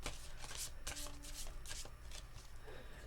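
Tarot cards being shuffled by hand, a quick series of crisp riffling bursts and soft slaps close up, with no talk.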